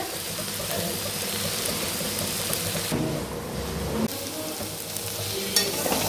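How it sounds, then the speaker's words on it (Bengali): Vegetables fry in a pan for chire pulao, with a steady, dense sizzle and crackle throughout, close by, with occasional scraping of a utensil. "এই যে ভাজা হচ্ছে"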